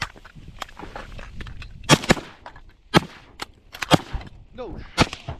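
Shotgun shots during a duck hunt outdoors, several sharp loud blasts spaced irregularly, with two standing out, among quieter rustling, movement and distant pops.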